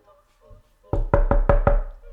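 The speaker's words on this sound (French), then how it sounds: "Puis elle cogne à la porte." Five firm knocks on a door, evenly spaced and close, played as a sound effect in a told story after a brief quiet moment.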